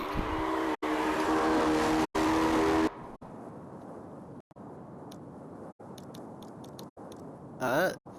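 Azura GXR and Nomad GT cars in the CarX drifting game, engines roaring loudly through the opening seconds, then quieter engine hum broken by clicks and a short squealing burst near the end, with talk over it.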